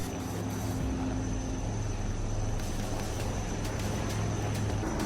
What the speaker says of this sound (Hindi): चैलेंजिंग सिचुएशन में मकान के ऊपर ही हेलीकॉप्टर उतारने को मजबूर है।